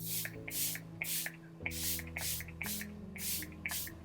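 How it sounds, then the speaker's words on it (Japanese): A makeup setting mist is sprayed in a rhythmic series of about seven short, airy pumps, close and fairly loud, each burst separated by brief pauses with faint clicks of the nozzle. "とりあえずスプレーをしてみます。"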